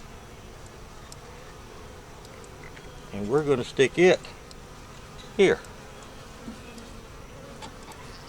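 Honey bees around a hive frame in a four-frame nuc make a faint, steady buzz throughout, briefly under a man's speech in the middle.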